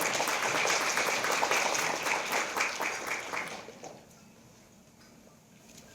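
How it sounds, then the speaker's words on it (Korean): Audience at an investment seminar on big tech and semiconductor stocks breaks into dense applause that lasts about four seconds, then fades out to quiet room tone. "큰 박수 부탁드립니다"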